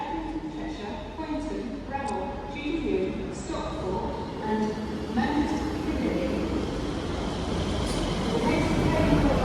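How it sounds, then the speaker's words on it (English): A two-coach Class 158 diesel passenger train pulls into a station at Stoke-on-Trent, a steady rumble with squealing tones and clanks that builds gradually, a voice talking over it. "This train is formed of 2 coaches, and it is a 1588 in a spark"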